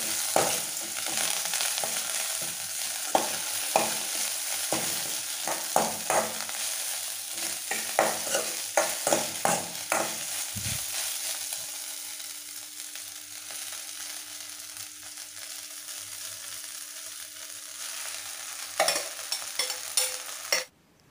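Coriander leaves sauté in a hot pan with a steady close sizzle, broken by frequent scraping stirs of a spatula that thin out toward the end, leaving a softer continuous frying hiss.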